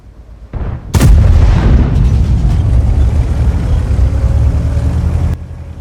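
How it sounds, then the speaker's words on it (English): A single tank cannon shot in World of Tanks on the 9.16 test server: one loud, heavy boom with a sharp onset, followed by a long rumbling tail that holds for several seconds before cutting off. "I just really, really wanted to fire the gun to hear the sound again."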